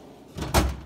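A deep drawer of a tool box slides open, a brief rolling rumble ending in a solid thud.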